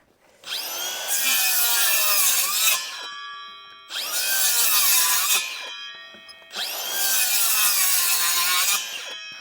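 A circular saw with a broken guide spring cutting wood in three long passes, each a loud whining grind that starts, holds for a couple of seconds, then stops, close by.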